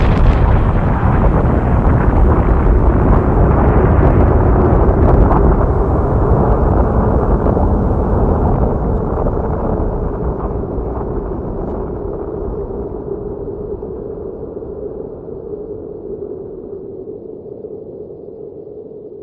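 A huge bomb explosion in a radio drama: a deep, roaring blast that rolls on as a heavy rumble and slowly fades over many seconds, with no voices.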